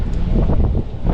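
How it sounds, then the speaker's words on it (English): Steady wind buffeting a microphone outdoors while testing a Nakto Skylark folding electric bike, a constant low rumbling roar with gusty swells throughout. "it's a little bit windy"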